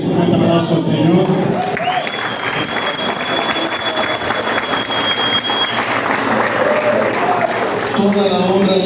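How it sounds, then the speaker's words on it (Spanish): A church congregation gives loud, sustained applause during a worship service, the continuous clapping mixed with crowd noise and voices. "Como que les un fuerte aplauso al Señor."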